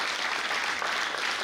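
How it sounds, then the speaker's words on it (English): Audience applause at an evening school graduation celebration, a steady dense wash of clapping from a room full of people, held at an even level throughout with no voices over it. "Big clap for them."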